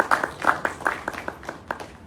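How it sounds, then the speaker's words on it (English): An audience at a cervical cancer awareness session gives a brief round of applause, scattered claps with a few distinct sharp hits, moderately loud and close. "Please give them all a round of applause."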